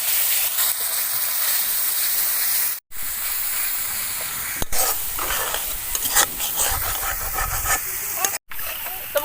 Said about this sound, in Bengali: অল্প একটু জল দিয়ে আমি মশলাটা ভালোভাবে কষিয়ে নেব